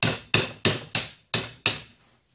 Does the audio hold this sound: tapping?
yes